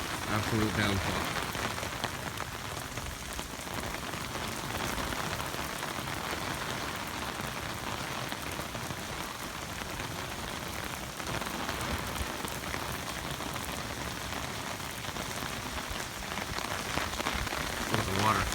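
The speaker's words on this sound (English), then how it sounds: "So it is just downpouring." Sustained torrential downpour during an El Niño storm, a loud, even roar of rain hitting the ground and grass that holds for the whole stretch with no letup.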